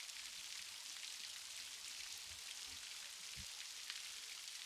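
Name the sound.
rain falling on rainforest leaves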